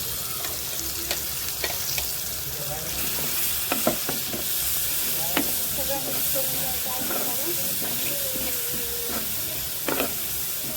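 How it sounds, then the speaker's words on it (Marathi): Ground homemade masala paste with turmeric fries in a pan for a spicy chicken liver curry. A steady, close sizzle and hiss runs throughout, with scraping stir strokes and light clinks on top. "हे बघा किती छान आपला मसाला पण छान भाजून आहे"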